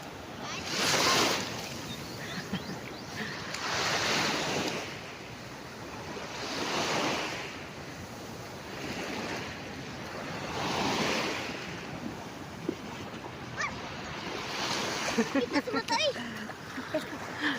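Sea waves surge and break repeatedly on the shore of a beach resort at early morning, a steady washing roar that swells and fades every few seconds, with wind buffeting the microphone.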